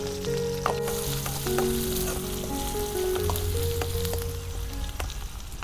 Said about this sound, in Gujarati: તો રાઈ કકડી ગઈ છે તો જીરું નાખી દઈશું.